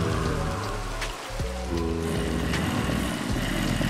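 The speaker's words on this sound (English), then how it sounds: "I knew it. It was gonna rain." Rain falling in a modded Minecraft world, a steady patter under shifting game tones and tonal blips.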